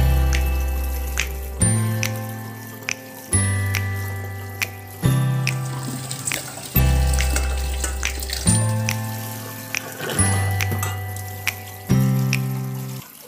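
Sago pearls rinsed under running tap water in a sink, a steady close splashing stream broken into repeated bursts as the pearls are stirred and drained, with no talking.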